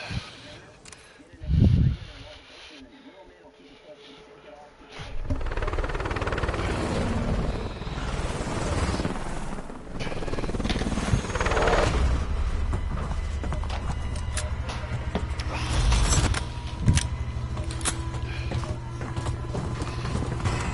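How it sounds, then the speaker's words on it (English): Helicopter flying overhead, a loud, continuous broadband rotor roar that rises after a few seconds and persists throughout, with people talking over it. "I can actually hear you over the helicopter."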